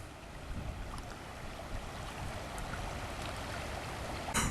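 The River Ribble flows past at a quiet countryside spot, a steady broadband rush of moving water with light wind, even and continuous.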